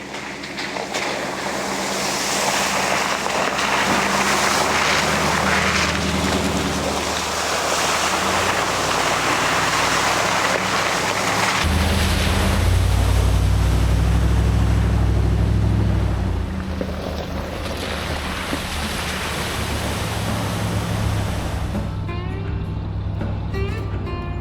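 A heavy camper van drives a sandy beach track through rainforest, its engine rumbling loudly and steadily with a deep surge of low rumble in the middle, backed by a constant broadband rush like surf or wind.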